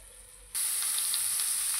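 Beetroot and vegetables for pav bhaji drop into a hot kadhai and burst into a loud, steady sizzle after a brief quieter moment, frying hiss continuing close up.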